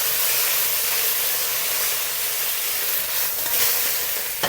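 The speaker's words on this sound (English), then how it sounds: "I've been frying the prawns for 2 minutes already." Steady, loud sizzling of prawns pan frying with shallot and spring onion in a hot pan, a continuous crackling hiss with no voices.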